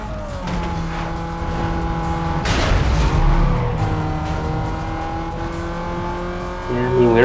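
A car engine revs hard toward redline in Need for Speed: Most Wanted (2005), loud and close. The pitch climbs, surges to a harsh peak, eases back, and then rises again toward the end.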